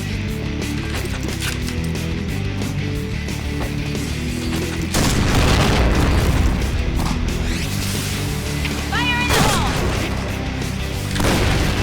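Grenade blast in the online shooter Point Blank, a loud boom that erupts midway through continuous gunfire and combat noise, followed by more heavy rumbling.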